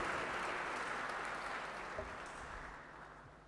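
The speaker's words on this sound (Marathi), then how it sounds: "एकदा जोरात टाळ्यांचा कडकडाटात आपण त्यांचंसुद्धा स्वागत करू" Audience applause at an endowment lecture event in a hall, a dense steady wash of clapping that fades slightly toward the end, with no voices over it.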